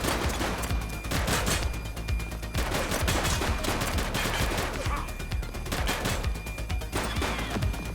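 Gunfire in The Precinct video game crackles in repeated loud bursts and rapid volleys, some resembling machine-gun fire, with brief gaps between clusters over a steady background.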